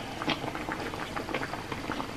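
Pasta boiling in a pot of water on a stove: a steady, close bubbling with soft pops and gurgles throughout, fairly quiet and with no voices.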